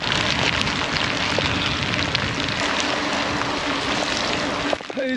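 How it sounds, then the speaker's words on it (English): Steady heavy rain falls outdoors during a mountain trek in Snowdonia, a dense continuous hiss of drops on surfaces, loud and unbroken, with a brief rustle near the end. "It is properly raining"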